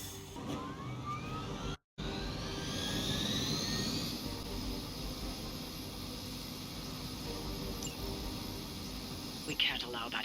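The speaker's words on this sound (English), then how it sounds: "We can't allow that helicopter to escape." Helicopter in the Midnight Suns video game, a steady roaring engine and rotor drone that holds throughout with a brief cut near the start, rising slightly and staying loud alongside game sounds.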